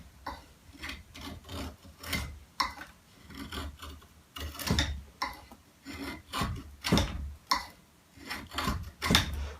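Crisp rhythmic shaving strokes of a knife whittling and planing wood, each cut a short rasping scrape repeated in irregular bursts, close up and clear with no talking.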